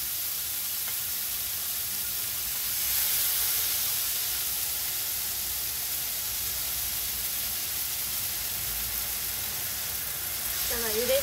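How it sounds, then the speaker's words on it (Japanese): A pan stir-fry hisses in a steady, even sizzle after a splash of cooking water goes in, fairly loud and close, with a brief squeaky sound right at the end. "ゆで汁も少し加えて炒めます"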